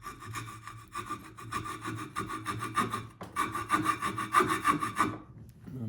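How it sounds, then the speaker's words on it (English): Coping saw cutting the bill of a carved wooden black duck decoy head, steady rapid back-and-forth rasping strokes, close and continuous for several seconds before stopping, with no talking. "I'm going to use my coping saw, make these bill cuts"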